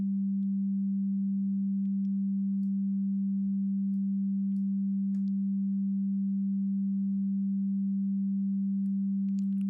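A steady sustained synth tone built in Reaktor, its filter cutoff gently modulated, giving a smooth continuous pitch with subtle slow wobbles and dips, clean and alone without voices.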